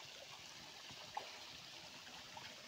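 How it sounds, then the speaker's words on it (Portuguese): A small waterfall on a stream in a rural creek, a faint, steady rushing and trickling of water heard at a distance, with no talk. "Ali à frente tem uma cachoeirinha ali"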